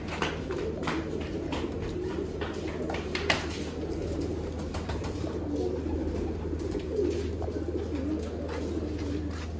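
Pigeons kept in a loft give soft, repeated cooing calls over a steady low hum, with occasional faint flutters and clicks scattered throughout.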